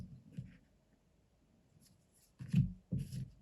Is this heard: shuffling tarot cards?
yes